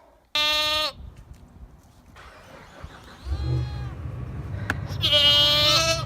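Several goats bleat loudly nearby, one sharp call at the start and a longer chorus of bleats at the end, with a low engine-like rumble underneath.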